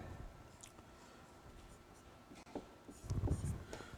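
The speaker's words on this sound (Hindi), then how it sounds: "चलिए अगली बात यहां पे लिखते हैं।" Chalk or marker scratching on a board during a maths lecture on matrices, faint irregular strokes at first, then a louder burst of tapping strokes near the end, with no one speaking.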